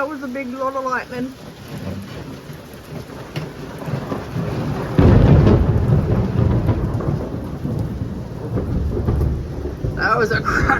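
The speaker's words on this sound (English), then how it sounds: "I don't feel too bad about hammer drilling these holes now with this thunder outside." Deep rolling thunder rumbles through steady rain, swelling into a loud crack and long rumble midway, with voices speaking briefly at the start.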